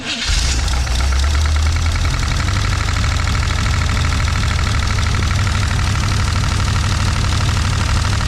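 A 1937 Ford engine starts and runs steadily at idle, with a rapid ticking, clattering noise from a faulty valve over the rumble.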